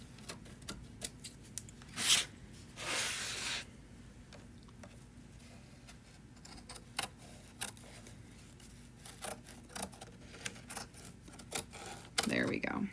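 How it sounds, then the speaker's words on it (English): Fabric scissors trim excess fabric from a placemat in a quiet room, with faint, irregular snips and clicks and a few louder rustles of material between them. "I'm gonna use my fabric scissors because it cuts through fabric so much easier"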